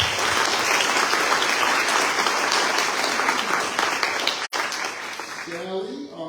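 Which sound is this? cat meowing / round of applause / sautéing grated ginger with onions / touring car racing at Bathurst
round of applause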